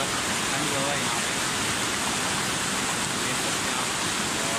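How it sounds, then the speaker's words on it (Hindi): A cold waterfall rushes in a dense, unbroken roar, loud and near, steady throughout with no pauses. "ये आ रहा है अबशार का पानी और बहुत ठंडा है इस वक्त"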